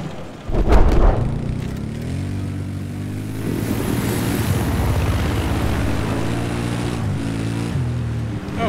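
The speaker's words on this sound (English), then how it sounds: "our squad member Votemap managed to fly the chopper out of the ball" A helicopter in the Battlefield 4 video game flies past with a loud, droning rotor throb, a sharp hit at the start, then a steady whirring that holds throughout.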